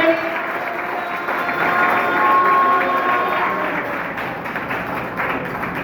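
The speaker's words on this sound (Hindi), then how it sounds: "जोर से ताली बजाओ, जोर से ताली बजाओ।" A church congregation claps loudly in a steady, dense patter that swells in the middle and tapers off, with a voice speaking over the applause.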